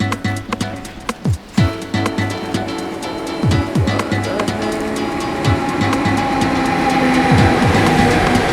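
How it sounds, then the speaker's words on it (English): A train rolls past at Gothenburg station, loud and near, with rumbling wheels, rhythmic rail clatter and squealing tones building into a sustained roar. "I hear a train behind me"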